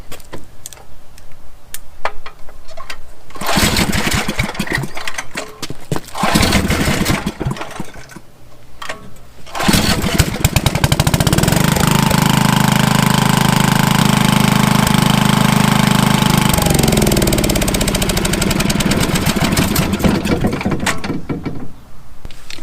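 A small generator engine is pulled over and starts, then runs with a loud, steady close drone for several seconds before sputtering and dying out as its gas runs out; there is clattering handling beforehand.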